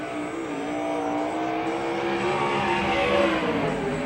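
A USAC/CRA sprint car laps the Phoenix, Arizona track, its engine howling steadily and loudly at high revs with rising and falling pitch as it circles, with no talk over it.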